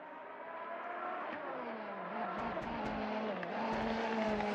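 Race cars on track at Fuji during qualifying, engines droning and revving at a moderate distance with a tire squeal or skid, a steady hum of motors throughout.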